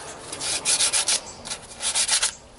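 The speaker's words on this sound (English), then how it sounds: "I'm just going to sand this a little bit by hand and get rid of the sharp edges." Wood is hand-sanded to smooth its sharp edges, a close, quick rhythmic rasping in short strokes that come in two clusters with a brief pause between, with no voices.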